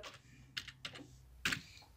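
Keys tap on a computer keyboard while text is entered in Microsoft Word, coming as irregular close clicks in small bursts with a louder cluster near the end and no speech.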